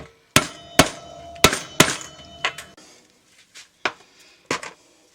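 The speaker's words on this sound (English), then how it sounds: "position it right and hammer it home" Metal hammer blows seat a cam on a Suzuki GT550 motorcycle, giving several sharp, close clangs in an uneven rhythm, the later strikes lighter and sparser.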